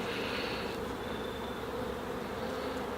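Honeybees drone in a hive infested with small hive beetles, a dense, steady buzz heard close up and quiet, with no voices.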